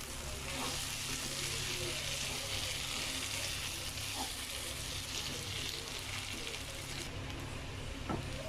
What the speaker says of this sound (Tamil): இப்போ நம்ம வேக வச்சுருக்க இந்த பாஸ்தா இதில் ஆட் பண்ணிடலாம். ஆட் பண்ணிவிட்டு நல்லா மிக்ஸ் பண்ணி விட்டுருங்க.